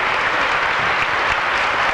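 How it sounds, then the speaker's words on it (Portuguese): A church congregation clapping together at a baptism service, a dense, steady burst of applause that stays loud and even throughout. "Aleluia, aplauda Jesus, irmão"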